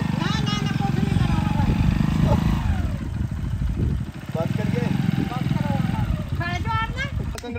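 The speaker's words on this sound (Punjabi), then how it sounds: "ਮੋਟਰਸਾਈਕਲ ਆ ਗਿਆ" Motorcycle engine running steadily and loudly throughout, with a continuous low rumble and a brief dip midway, while people talk and shout over it.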